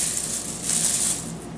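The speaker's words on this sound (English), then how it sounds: "that is the sound of perfectly toasted, roasty kale chips" Crisp roasted kale chips rattle and crunch in a bowl, a steady dry rustling texture that stays close and moderately loud for under two seconds with no talking.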